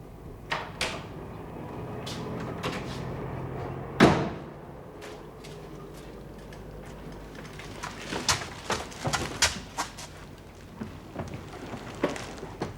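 An interior door opens with a single sharp clack near the middle, amid quiet room tone and scattered small knocks and footsteps, with faint birdsong in the background.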